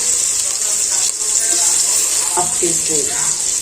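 Ginger garlic paste sizzles in hot oil for a chicken curry, a steady close frying hiss running throughout, with a few faint clinks and soft stirring sounds partway through.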